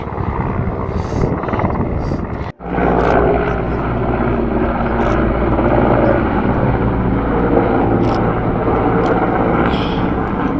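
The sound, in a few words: helicopter flying over Adi Kailash area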